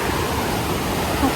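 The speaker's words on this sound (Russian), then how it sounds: "Вот вода течет" Water flows steadily through a village in the Pyrenees, a dense, even rushing and gurgling that fills the whole moment close by, with no break.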